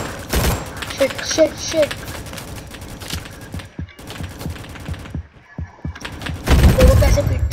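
Gunfire from a weapon in a video game, bursts of shots and thumps scattered between quiet gaps and ending in a loud final volley, with someone talking and exclaiming over it.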